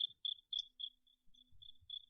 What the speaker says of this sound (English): That's supposed to be crickets.